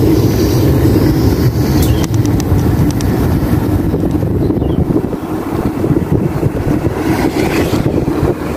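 Electric bicycle ridden at full throttle with a nearly depleted battery, giving a steady, loud rushing of wind and road noise with a low rumble throughout, no speech.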